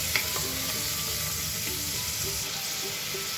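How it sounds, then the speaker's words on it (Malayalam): Two medium onions sauté in oil in a hot pressure cooker, giving a steady, close, continuous sizzle with faint stirring scrapes and no talk. "ഈ ചൂടായ കുക്കറിലേക്ക് നമുക്ക് 2 മീഡിയം സവാള ഇട്ട് കൊടുക്കാം. പിന്നെ ഈ ഓയിൽ നമുക്ക് ഈ ഒരു ഉള്ളി ഒന്ന് വാട്ടിയെടുക്കണം, നന്നായിട്ടൊന്ന് വഴറ്റിയെടുക്കണം"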